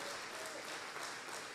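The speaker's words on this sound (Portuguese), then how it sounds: "Você pode aplaudir ao Senhor?" A church congregation applauds during a live worship service, a continuous, fairly faint wash of clapping heard from a distance.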